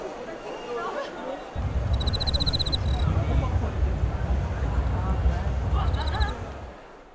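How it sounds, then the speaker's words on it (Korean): Crickets give short bursts of bright pulsed chirping twice at an agricultural expo, faint against a steady murmur of crowd chatter and hall noise. "도시에선 좀처럼 듣기 힘든 귀뚜라미 울음소리에 귀를 기울여 보고"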